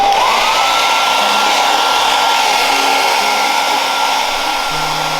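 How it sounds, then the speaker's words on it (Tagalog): Hair dryer blowing continuously to erase Pilot Frixion erasable pen ink from a workbook page, a loud, steady motor whir with a constant airy rush and no talking. "So if we're gonna erase lots of writings, we use a hair blower."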